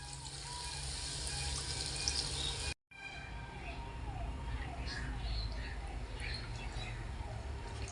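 Water that was used to rinse a grinding stone is poured into cooking masala, giving a steady, faint splashing and trickling of liquid that breaks off briefly partway through, then picks up again with small drips and sizzles.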